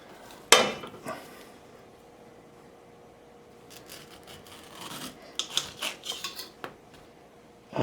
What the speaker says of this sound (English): we're just gonna slice off that corner